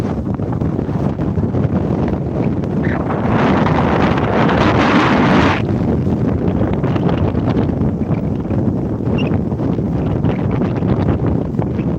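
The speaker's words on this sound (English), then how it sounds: "Because the wind is blowing there, so all the sand comes on us" Strong wind at a beach in Fortaleza, Ceará, roaring across the microphone with heavy buffeting and a gustier rush midway as sand is blown about.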